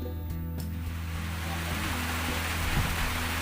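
Rain falls steadily at an outdoor fishing spot, a dense even hiss that swells slightly over a few seconds alongside a low background hum.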